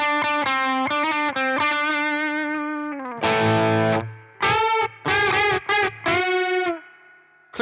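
Electric guitar, a Les Paul Jr., played through a Sheriff fuzz pedal: loud, saturated sustained notes and chords with short picked phrases, a thick distorted sustain and brief pauses between riffs, no voices.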